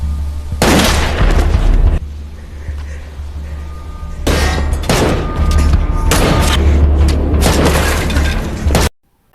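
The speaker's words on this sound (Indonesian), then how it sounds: "Dan terjadilah adu tembak yang sangat dramatis." A dramatic gunfight in a film plays out as loud bursts of gunfire and booming impacts in two long, dense stretches separated by a short lull, ending abruptly.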